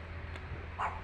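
A tethered dog barks once or twice at a distance outdoors along a rural path, faint against the background.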